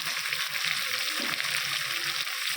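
Spices ground with ginger and chilli fry in a pan with a steady, close, bright sizzle that hisses continuously without pause.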